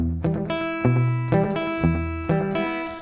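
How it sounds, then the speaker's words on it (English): Twangy electric guitar: a first-string flick followed by a first-finger hammer-on, repeated in a bouncing, muted rhythm of plucked notes, close and alone. "As I flick up on the 1st string, like I was just showing you, I tap the 1st finger down."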